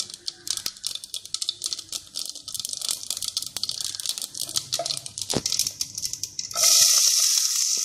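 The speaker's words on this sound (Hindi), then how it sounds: "जीरे को बहुत अच्छे से भूनना है जब तक ये ब्लैक ब्राउन ना हो जाए" Cumin seeds roast in a pan for a Punjabi urad and chana dal, giving a dense, crackling, rattly sizzle close by that swells into a steady bright hiss near the end, with no voices.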